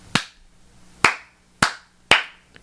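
Four sharp hand claps spaced roughly half a second to a second apart, close and loud, each with a short ringing decay in a quiet room, followed by a faint small tap.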